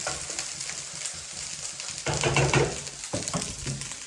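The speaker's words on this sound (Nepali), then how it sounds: "आलु त्यहाँ फ्राई गरिदिन्छु" Potatoes fry in a pan with a steady, soft sizzle and hiss, swelling briefly midway as stirring adds a few light scraping clatters.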